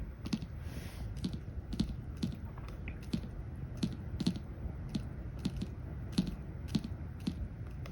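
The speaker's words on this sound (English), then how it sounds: "I'm going to type in the password here." A password being typed on a keyboard while a robot vacuum cleaner is set up: quiet, evenly spaced keystrokes tapping in a steady rhythm, with no talking.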